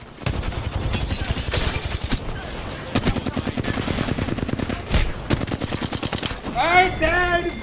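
A Flatline rifle in Apex Legends fires long, rapid automatic bursts at close range with short gaps between them, and a brief voice-like game sound rises near the end.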